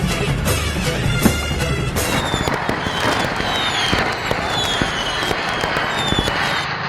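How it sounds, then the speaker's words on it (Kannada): Diwali firecrackers set off outdoors in a rapid, irregular volley of sharp cracks and bangs, some rockets whistling as they climb, loud and close throughout. "ಪಟಾಕಿ ಆರ್ಸೆ ಬಿಡುನು."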